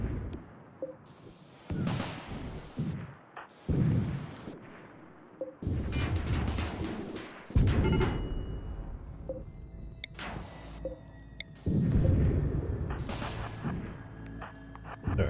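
Rapid bursts of turret gunfire in the colony game RimWorld, loud and close, coming in repeated clusters with short pauses, alongside impact booms and scattered combat noise.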